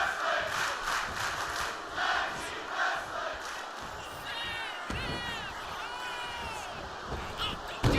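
Crowd in a wrestling video game arena, a loud continuous roar of cheering and chanting with sharp whistles and a thud near the end.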